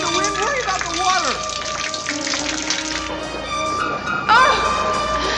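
Rushing flood water pours in a Nancy Drew adventure game scene, a steady broadband wash with a louder surge near the end, under game music and voices talking.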